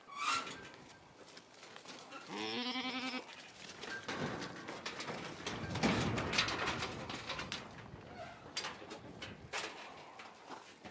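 Goats bleat repeatedly in a noisy pen while being run through an alley and chute handling system, with one clear harmonic bleat standing out amid shuffling and other animal calls throughout.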